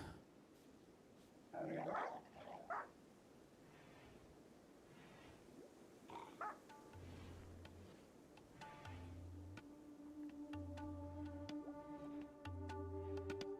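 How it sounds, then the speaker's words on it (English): Angry dogs in the video game RimWorld give faint, growling barks in two short bursts, then soft game music with low pulsing tones takes over. "They sound like very angry dogs."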